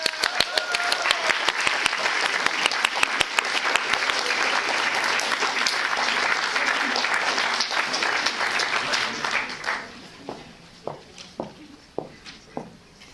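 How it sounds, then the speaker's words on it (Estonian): A large audience at a science centre film evening applauds loudly and densely for several seconds, then the clapping thins out into a few scattered claps before stopping. "teeme siis hästi suure aplausi meie teadlasele"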